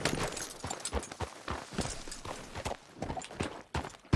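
Horse hooves clip-clopping in a video game, a steady walking rhythm of sharp, close knocks repeating about twice a second, with no other sound between steps.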